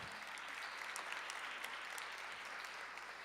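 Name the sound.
audience applause at a budget forum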